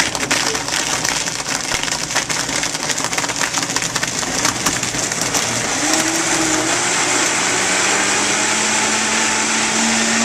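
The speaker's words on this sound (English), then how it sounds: "Now you can hear the ice starting to get sucked down." A Vitamix blender grinds ice for a smoothie with a loud, steady, dense roar. Around the midpoint the motor pitch shifts and settles into a smoother, continuous whir as the ice is drawn down into the blades.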